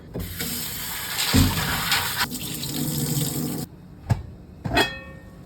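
Tap water runs steadily into a pot holding two cups of peas with salt beef for Jamaican stew peas, a loud gushing stream that cuts off partway, followed by a couple of short clanks and splashes.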